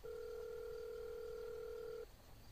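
A steady telephone dial tone in a French video game sounds alone for about two seconds as a call is placed, then cuts off leaving faint background hiss.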